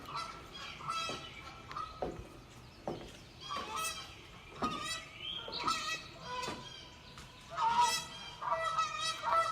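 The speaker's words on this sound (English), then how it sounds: "You hear the Canadian geese." Canada geese honk repeatedly from near a lakeside deck, a series of loud nasal calls in irregular bursts, several birds overlapping, fairly close.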